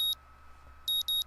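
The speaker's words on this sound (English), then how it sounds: "I wake to the annoying din of my alarm clock, its bright red numerals lighting up my face" Electronic alarm clock in the Katawa Shoujo video game, sounding one loud high-pitched beep, a pause, then two more quick beeps, clear and close over quiet background hum.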